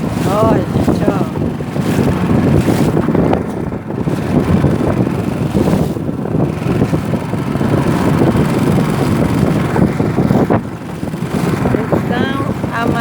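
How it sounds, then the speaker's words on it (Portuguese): Strong wind buffets the microphone over choppy, churning water during a river boat crossing, a loud continuous rushing roar throughout. "Então, a maresia tá grande."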